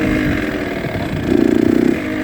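A dirt bike engine runs steadily up close while riding through trenches, a continuous mid-pitched drone that briefly takes on a throbbing, lugging pulse as the rider nearly stalls it.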